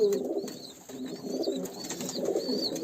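Pigeons coo in a loft, soft repeated throaty calls overlapping in low murmurs, close and steady, with faint high chirps in the background.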